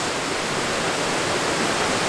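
Mary Vine Falls on Vancouver Island, a steady broadband rush of falling water heard up close, unbroken and loud throughout.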